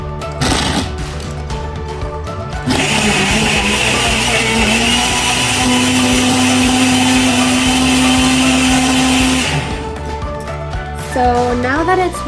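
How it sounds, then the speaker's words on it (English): Ninja blender whirring through a spirulina, mango and banana smoothie, a loud steady motor roar lasting several seconds, with someone talking before it starts and after it stops. "I'm gonna start blending it in my Ninja"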